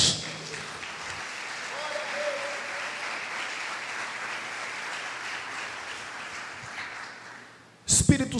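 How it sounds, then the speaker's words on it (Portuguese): A church congregation applauding in worship, sustained clapping filling the hall at moderate level under a voice that keeps speaking, then ending with a burst of louder handling noise. "levante suas mãos e glorifique o seu santo nome com aplausos"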